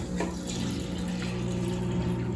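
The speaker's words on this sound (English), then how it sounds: "And the radiator's filling up. And we have water flow." Water flows and gurgles steadily through a PC water-cooling loop as its radiator fills, with a constant pump hum beneath the close, continuous liquid wash and no talking.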